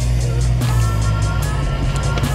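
Engine of a 2017 Dodge Challenger Scat Pack held at a steady, loud, close idle-rumble, with a brief dip and bump as a paddle-shifter upshift engages partway through; no talk over it.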